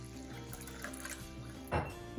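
About one litre of water is poured into a pot of washed rice for cooking, a soft close liquid pour and trickle followed by a brief louder splash near the end.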